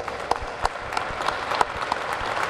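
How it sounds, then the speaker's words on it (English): An audience at a Medline ribbon cutting applauds, a brief burst of steady clapping from a modest crowd with a few sharp, close claps standing out. "Can we give them a round of applause?"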